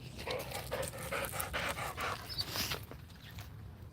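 A dog pants close by in quick, steady, breathy huffs that run for several seconds before easing off, with no talking.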